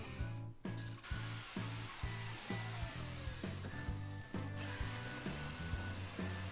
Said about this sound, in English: insert the jigsaw blade through that drilled hole and continue to